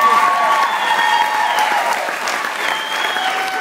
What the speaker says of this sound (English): I'd like a round of applause for her, because she's so beautiful